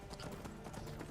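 Horse hooves clip-clop steadily as a horse is ridden in Skyrim Dragonborn, a faint, even rhythm of repeated hoofbeats.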